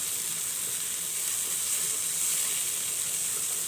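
Garlic hits a hot pan of frying mushrooms, giving a steady, close, bright sizzle and hiss that holds evenly throughout with no voices over it.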